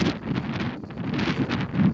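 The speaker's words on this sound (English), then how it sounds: "it's hot, but it's windy at least" Steady wind buffets the microphone on a hot, dry mountain trail along the Colorado Trail, a loud continuous rush with gusty swells and no speech.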